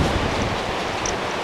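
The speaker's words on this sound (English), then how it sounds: "it's ghastly windy today" Strong storm wind blows hard, buffeting the microphone with a steady, loud, rushing roar that fills the whole stretch without a break and with no voices.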